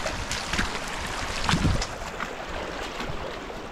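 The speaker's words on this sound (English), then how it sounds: "Nice little creek crossing here." Creek flowing at a hiking trail crossing in Yosemite's high country, a close, steady rushing and splashing of water with wind buffeting the microphone.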